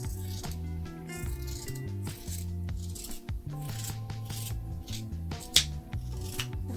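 Scissors cutting sweater fabric in close succession, a series of crisp snips and rustling rubs with a small clink partway through, near and quiet with no talk.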